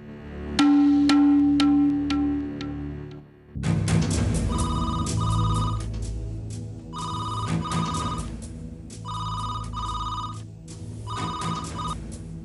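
A telephone rings unanswered in a Telugu TV serial, with repeated electronic ring bursts in a steady pattern over a low musical backdrop and no voices.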